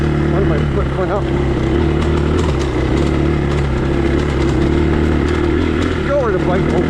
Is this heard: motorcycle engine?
yes